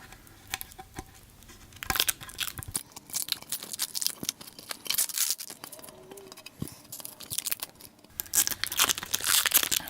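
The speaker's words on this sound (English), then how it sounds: "Peeling plastic time." Protective plastic film is peeled off a new monitor in stop-start pulls, giving close crinkly tearing and rustling bursts separated by short pauses.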